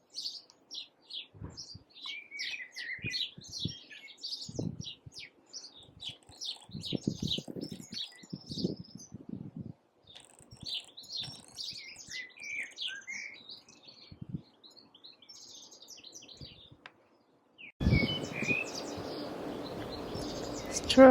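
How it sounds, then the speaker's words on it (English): Birds chirp and sing in a rose garden, a busy chorus of bright tweets and calls close by, with soft scattered knocks and rustles underneath and a sudden broadband burst of noise near the end. "Can you hear those birds?"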